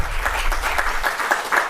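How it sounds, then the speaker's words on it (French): Audience applause at a live debate on European trade policy, a short burst of steady clapping from a crowd that fills the whole moment at moderate loudness. "Et on peut les applaudir."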